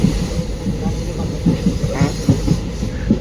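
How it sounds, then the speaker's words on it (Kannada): A special train from Bengaluru to Bidar runs past a railway station, giving a steady rumble with rhythmic wheel clatter at close range. Faint voices sit low under the noise. "ಯಾವ್ದೋ ರೈಲ್ವೆ ಸ್ಟೇಷನ್ ಸ್ಕಿಪ್ ಆಗ್ತಿದೆ"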